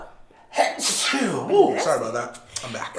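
A single loud, sharp sneeze bursts out close by, quickly followed by a person talking.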